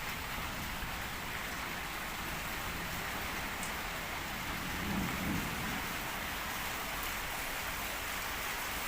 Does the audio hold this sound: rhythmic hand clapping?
no